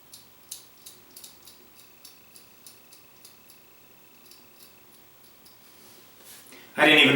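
Dry beard trimming under the nose without cream, a series of small, crisp snipping clicks in an irregular rhythm, close and quiet, ending in a sudden louder burst of noise.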